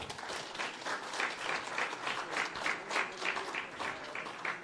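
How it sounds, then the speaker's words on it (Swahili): Sustained applause from an audience cheering the players of Shabana FC at a fundraising gathering of Gusii leaders, steady clapping in pulsing waves with no talk over it. "Pigia wa makofi."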